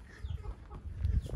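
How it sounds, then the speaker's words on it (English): Faint clucking from fighting roosters in Mexico, low and scattered, with a soft muffled background. "Los gallos de combate."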